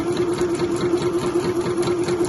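Sewing machine stitching quilted lining fabric fused to fleece for a weekender bag, a steady close whirring hum with a rapid even stitch pulse throughout, no talking.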